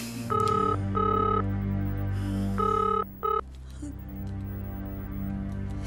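A telephone rings in repeated electronic bursts, several short trills in a row, over a low steady hum.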